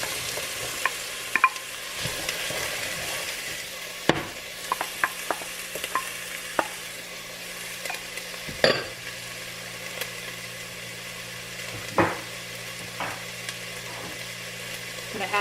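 Celery sizzles in a pan and is stirred, giving a faint, steady frying hiss broken by scattered scrapes and clacks of the utensil, heard up close with no talk.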